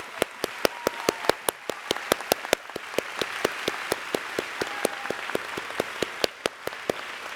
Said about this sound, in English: the applause can start